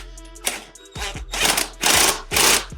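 A wrench tightening the rear axle of a 2002 Honda CBR F4i motorcycle during a sprocket replacement: several close bursts of rapid ratcheting clicks, loud and mechanical, separated by short pauses.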